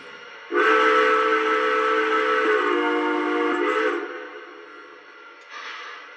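A steam-style Lionel New York Central Dreyfuss Hudson model train whistle gives one long, loud, chord-like blast that fades out, then a brief, quieter toot follows.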